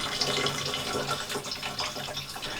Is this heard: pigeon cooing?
no